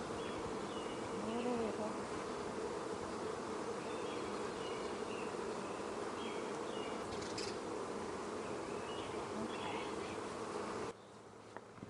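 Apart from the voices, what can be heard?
honeybees buzzing around an open overwintered hive during inspection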